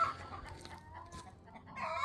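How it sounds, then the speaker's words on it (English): Backyard chickens cluck in a loose series of short, soft calls at close to middle distance, quiet with no voices over them. "you'll notice chickens are kind of loud"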